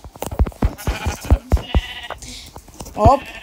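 Two sheep in Minecraft bleat briefly amid a girl and others chatting in Hebrew, the bleats short and near, mixed with clicky game sounds and speech.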